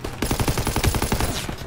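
Rapid bursts of gunfire in the World War II shooter Call of Duty WW2, a dense run of loud shots with no speech.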